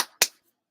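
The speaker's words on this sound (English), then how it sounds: "Clap the hands together." A single sharp hand clap during a relaxed qi gong session, close and isolated, preceded by a faint breathy sound and followed by silence.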